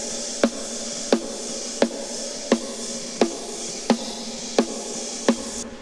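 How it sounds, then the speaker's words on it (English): Snare drum captured by a top microphone, eight crisp, evenly paced hits with bright ringing decay over steady hiss, fairly quiet and without voices. "Snare top."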